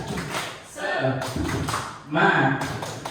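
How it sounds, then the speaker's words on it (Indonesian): Group in an Indonesian classroom-style session performs a rhythmic clapping chant, voices chanting together in short bursts punctuated by sharp claps and taps, close and fairly loud. "Coba untuk memulai semangatnya kita tepuk semangat. Tepuk semangat."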